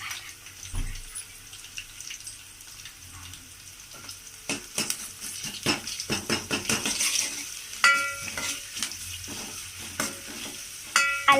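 Ginger garlic paste frying in a pan and stirred with a spoon, brisk sizzling under sharp metallic scrapes and clinks that come in uneven bursts, close by.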